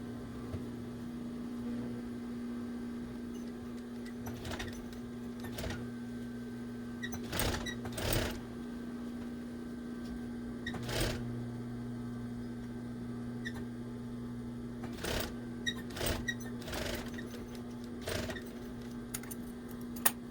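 Sewing machine stitching a new seam into a fabric glove to stop fraying, running in several short bursts of rapid stitching over a steady low motor hum, close and moderately loud.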